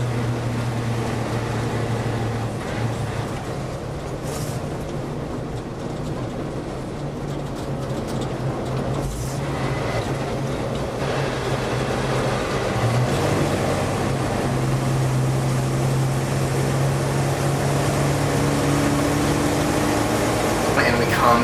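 An old army truck engine runs steadily while the truck drives along a road, a continuous low rumble with drone and road noise throughout, loud and close, with no voices.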